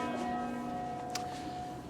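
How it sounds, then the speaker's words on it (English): Church bells ring in Ljubljana, Slovenia, with sustained, shimmering tones that hang in the air, steady and moderately loud, with no talking. "while the church bells ring because it's actually quite a soothing sound"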